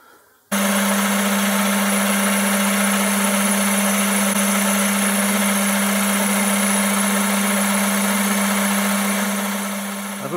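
A metal lathe turns down the diameter of a workpiece for a tap guide, starting abruptly and holding a loud, steady motor whine with a constant high tone through the whole stretch, easing slightly at the end.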